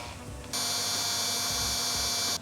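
A power drill with drill bits bores into a hard part of a Nissan Patrol, a steady loud whine running continuously for about two seconds after a short quiet start, then cutting off.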